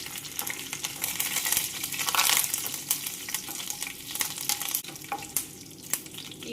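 Mustard seeds, curry leaves and chillies sizzle and crackle steadily in hot oil in a pan, with faint stirring and scattered pops, close and moderately loud with no talking.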